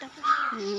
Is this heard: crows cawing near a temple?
yes